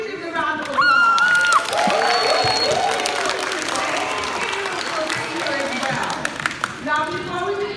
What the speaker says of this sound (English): Let's give our teachers a round of applause.